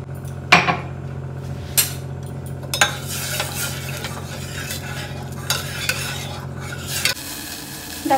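A spatula stirs and scrapes in a hot frying pan with sharp metallic clinks over steady sizzling and a low hum, then water is poured in near the end and the sound shifts to a fuller hiss.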